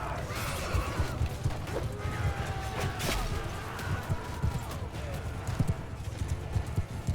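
Horse hooves clip-clop in a battle in the video game Mount & Blade II: Bannerlord: a fast, irregular patter of close hoofbeats over a busy background of clashing and crashing battle noise.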